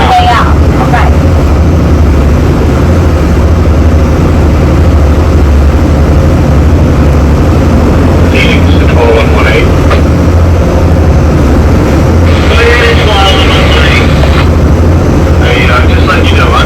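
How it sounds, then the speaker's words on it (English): A loud, steady yacht engine drones at a moderate idle throughout, with wind noise and scattered voices talking over it. "I've got my engine RPM set at medium idle"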